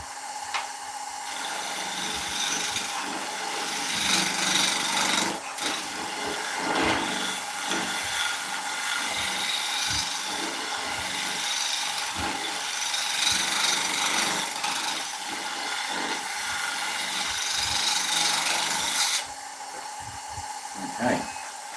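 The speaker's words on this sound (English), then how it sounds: "I've got a bowl scraper here basically" A bowl scraper cuts a spalted beech bowl spinning on a wood lathe, giving a steady close rasping scrape that runs for about twenty seconds with small irregular catches, then eases slightly near the end.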